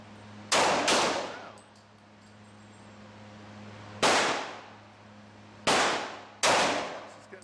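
A Smith & Wesson 1911 E-Class .45 pistol fires five loud, sharp shots at a shooting range: a close pair, a pause, a single shot, then another quick pair, each ringing briefly.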